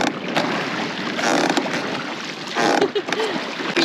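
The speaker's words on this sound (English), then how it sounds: "So rowing it is. You could literally hear the oars." A rowboat's oars stroke and splash through water on a jungle river in Panama, heard up close under steady wind and water noise.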